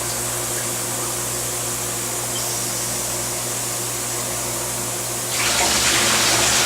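Water drains from a 4 ft stainless steel wet bench, a steady broadband rush that continues unbroken and grows noticeably louder and fuller toward the end, heard close with no voices.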